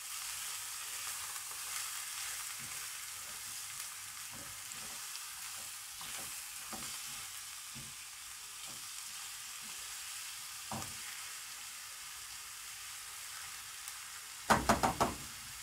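Chicken pieces and onion frying in a pan with cooking fat, a steady soft sizzle with scattered stirring knocks and scrapes, ending in a brief louder clatter.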